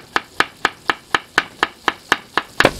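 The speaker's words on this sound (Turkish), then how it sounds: "Bir tane soğanımızı doğradık." A knife chops an onion on a cutting board in a home kitchen, eleven crisp, evenly spaced strokes in a steady rhythm, close and clear with no talking.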